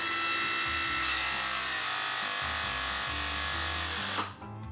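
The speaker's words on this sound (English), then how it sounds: "pull the trigger until the tool stops making noise and releases" A battery-powered Megapress pipe press tool crimps a 1-1/4 to 2 inch fitting with a steady, close motor whine that runs evenly, then stops abruptly with a faint click as the tool releases.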